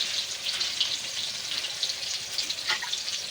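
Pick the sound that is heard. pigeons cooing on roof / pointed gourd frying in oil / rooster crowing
pointed gourd frying in oil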